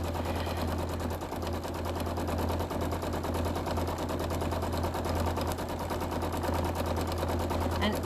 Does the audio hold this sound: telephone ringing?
no